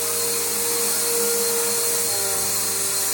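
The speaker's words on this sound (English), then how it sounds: "This is a post vacuum video with the Bissell Powerforce bag." A Bissell Powerforce bagged vacuum cleaner runs continuously with a steady motor whine and airy rush, loud and close, with no talking.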